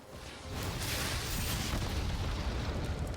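Play with Fire spell effect in the Magic: The Gathering Arena video game, a sudden booming fiery whoosh that swells and sustains as a loud, dense roar.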